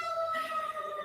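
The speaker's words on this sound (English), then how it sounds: "Of course, I have ambulances going by." An ambulance siren passing outside, a steady wailing tone held briefly at moderate loudness.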